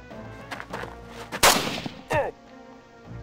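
Gunshot from the video game Jagged Alliance 2, a sharp loud crack followed by a second burst and a metallic ring, set among quieter game clicks and background sounds.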